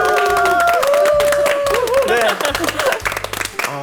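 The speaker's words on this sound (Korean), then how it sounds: "박수가 끊이지 않는데요." A studio audience applauds steadily at a 500th-episode anniversary broadcast of a Korean TV talk show, with bright music playing alongside. The clapping thins out toward the end, and a voice says a brief word.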